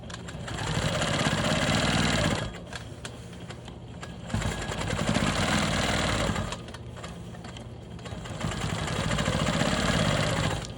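A Quilt Maker Pro 20 longarm quilting machine stitches around a small orange square on a rainbow block, its steady rapid motor hum running in loud bursts that pause briefly between passes, with no talking.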